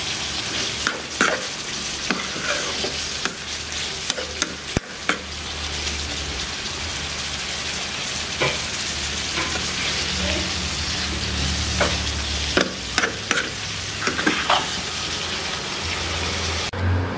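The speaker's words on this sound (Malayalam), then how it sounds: "ഒന്നുകൂടി നന്നായി മിക്സ് ചെയ്ത് എല്ലാവരും അല്പം കൂടി ഒന്ന് മിക്സാകാൻ വേണ്ടി വെച്ചു കൊടുക്കാം." A spoon stirs tuna pickle in a hot pan, with a steady sizzle and frying hiss throughout and occasional scraping clinks of the utensil against the pan, close and loud.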